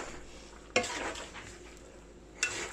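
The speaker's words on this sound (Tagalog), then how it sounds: "haluin natin uli." Pork dinuguan being stirred in a cooking pot, with a sharp clank of utensil against metal, a scraping, bubbling stir, and then a second clank, close by with no talking.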